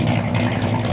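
A 1978 Camaro Z28 engine idles through a Performance Muffler exhaust. It makes a deep, steady, throbbing rumble that is loud and close, lasting only a moment.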